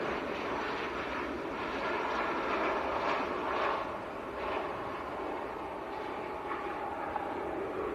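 Ryanair Boeing 737 MAX 8 arriving from Seville at Manchester Airport, a moderate, continuous engine roar with slight swells, heard at some distance, no voices.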